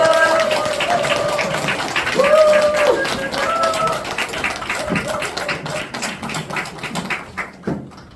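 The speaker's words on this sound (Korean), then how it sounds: "큰 박수 부탁드립니다." An audience claps and applauds at a Busan stage event, a dense patter of hands running steadily for most of the stretch with a sustained tone over it, then thinning out toward the end.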